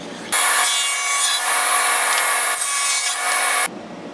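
A saw blade cuts through wood while making hold-down clamps for a CNC machine, a loud, steady, rasping whine lasting about three seconds, alone, with abrupt start and stop.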